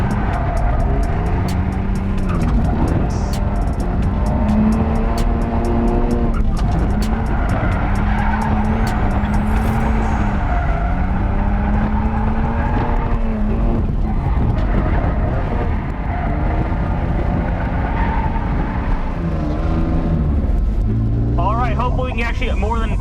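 A BMW on a race track slides sideways through corners as if on ice, with long tyre squeals rising and falling over a continuous, loud engine roar. A voice is faintly present underneath.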